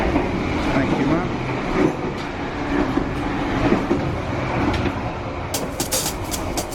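Executive-class train running from Jakarta to Bandung rumbles steadily with rolling rail noise and body sway creaks, continuous and close, with faint voices in the carriage and some clicking toward the end.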